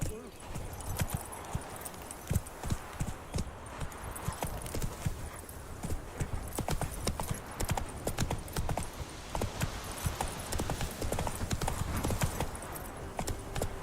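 Roach the horse trotting in The Witcher 3, a steady run of close clip-clop hoofbeats lasting throughout, with a voice speaking at times over them.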